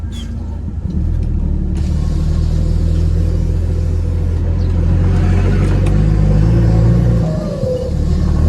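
A car with newly repaired brakes drives along, its engine and road rumble loud and steady from inside the cabin, easing off briefly near the end as it slows.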